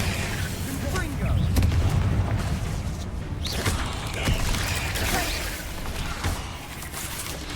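Repeated Confringo blasting-spell explosions in the video game Hogwarts Legacy, dense booming blasts and rumbling impacts running continuously and loud, with a voice calling out over them.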